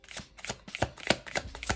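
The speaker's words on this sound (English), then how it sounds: "these cards are easy to shuffle, easy slip." Playing cards are shuffled in quick repeated riffles, about six crisp bursts close by.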